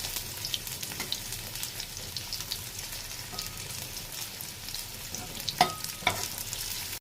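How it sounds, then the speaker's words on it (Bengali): Packaged paneer fries in a pan, a soft steady sizzle with occasional scraping stirs and a couple of sharper clinks toward the end, fairly quiet and with no talk. "পনিরটা একটু ভাজা ভাজাই করো, বুঝলে?"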